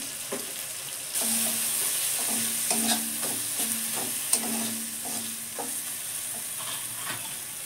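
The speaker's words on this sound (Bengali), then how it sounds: "এবারে আমি লাউয়ের কচি কচি ডাঁটাগুলো দিয়ে দিলাম।" Tender bottle gourd stems stirred into lentils frying with turmeric and cumin, a steady sizzle under repeated scraping stirs of the spoon against the pan, fairly close and continuous.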